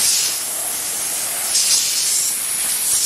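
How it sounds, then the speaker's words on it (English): An air compressor nozzle blows dust off a CNC-routed plaque, giving a continuous loud, close hiss of rushing air that holds steady for the whole stretch. "I blew the dust out of it using an air compressor"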